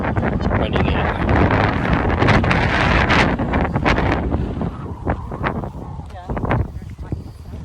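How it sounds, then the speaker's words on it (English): Strong gusty wind buffets the microphone on an outdoor walk through a Hawaiian garden, a loud continuous roar that surges and eases, with brief rustling and a few sharp bumps toward the end. "wind is crazy today."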